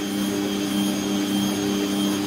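A steady, loud electric mixer motor hum and whir runs without pause while kneading cinnamon cookie dough, working continuously at a constant speed.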